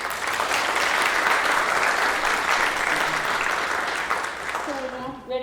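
Sustained, dense applause from a large audience at a student awards ceremony, loud and steady for several seconds before tapering off, with a voice beginning to speak near the end.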